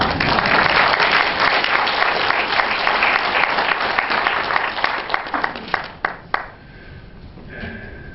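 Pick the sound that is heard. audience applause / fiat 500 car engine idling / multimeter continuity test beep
audience applause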